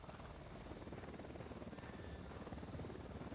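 Video game helicopter, a steady loud rotor thrum with rapid chopping pulses and broad engine roar running continuously, no talk over it.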